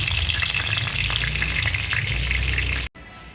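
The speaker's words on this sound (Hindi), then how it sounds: "अभी चिकन लेग पीस फ्राई हो रहा है" Chicken leg pieces fry in hot oil with a loud, steady sizzle and the odd stirring clink, cutting off abruptly near the end to a quieter hiss.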